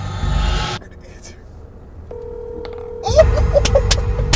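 A phone receives an incoming call, a steady electronic ring tone starting after a stretch of near quiet, joined by clicks and a busier noise bed as the scene picks up.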